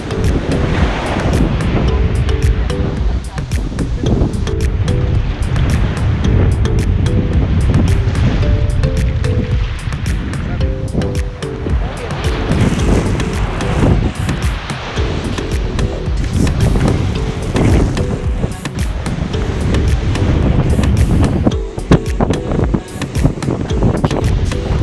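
Sea breeze and surf on a beach at Cabo de la Vela, La Guajira, a steady loud wash of waves and wind buffeting the microphone throughout, no talk.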